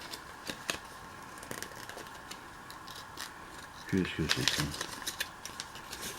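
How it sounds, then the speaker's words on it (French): Someone unwraps a packaged item from a gacha crate, with crinkly rustling and small clicks running under steady French talk and a louder burst of handling near the end. "je suis en train de le déballer"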